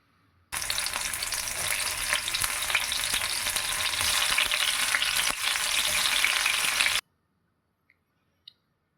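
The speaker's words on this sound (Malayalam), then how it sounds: "അതിനുശേഷം പാൻ നന്നായിട്ട് ചൂടായി വരുമ്പോൾ അതിലേക്ക് ബ്രൊക്കോളി ഇട്ട് കൊടുക്കാം." Broccoli sizzles and fries steadily in a hot pan, a loud dense crackle starting abruptly and holding for several seconds before cutting off, followed by a couple of faint clicks.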